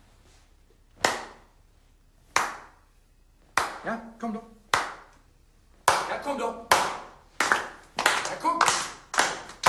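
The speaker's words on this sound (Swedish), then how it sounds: "Stor applåd för Jonas Mittander" Scattered hand claps greet Jonas Mittander in a small group, several separate bursts that grow busier toward the end, with brief speech between them.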